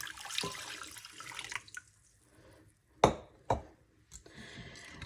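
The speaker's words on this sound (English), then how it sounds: "to this, we're going to add our water" Warm water poured into flour in a bowl for no-knead Dutch oven bread, a short liquid splash and pour at the start followed by a few sharp knocks and clatters of kitchen utensils.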